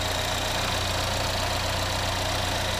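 The 2.4 liter Ecotec engine of a 2015 Chevy Equinox all-wheel drive runs at idle, a loud, steady, close drone with a constant hum and no other sounds.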